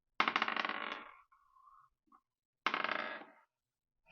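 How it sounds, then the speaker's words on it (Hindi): Oracle cards are riffled and shuffled close up in two quick bursts of rapid fluttering clicks, separated by a near-silent pause with a few faint card sounds. "हम इससे भी शफल करेंगे।"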